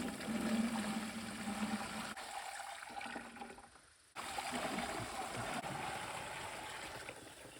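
Water from a watering can splashes steadily onto the ground in an off-grid garden during a drought, a continuous rushing pour that briefly drops away in the middle, then resumes at full strength.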